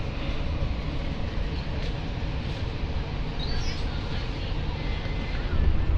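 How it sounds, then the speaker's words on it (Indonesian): Cabin rumble inside the Argo Wilis passenger train while it rides from Tasikmalaya toward Surabaya Gubeng: a steady, dense low roar with faint rattles and squeaks throughout. "Kereta api Argo Wilis berangkat dari stasiun Tasikmalaya menuju Surabaya Gubeng."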